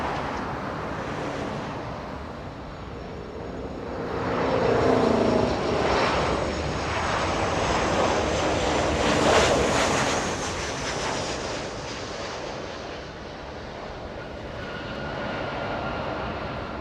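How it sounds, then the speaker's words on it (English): A Southwest airliner arriving from San Francisco lands at Los Angeles International Airport, its jet roar swelling and rising to a broad peak as it passes fairly near, then fading to a distant rumble with some wind buffeting. "Southwest 4136 flying in from San Francisco"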